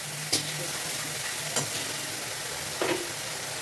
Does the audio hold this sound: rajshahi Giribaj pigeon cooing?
no